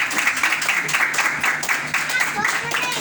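Applause at a prize-giving for an end-of-year competition at an Islamic boarding school, steady clapping from a crowd that is fairly close and moderately loud, with a few brighter individual claps standing out.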